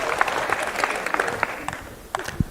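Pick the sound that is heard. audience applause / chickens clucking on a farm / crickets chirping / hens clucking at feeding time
audience applause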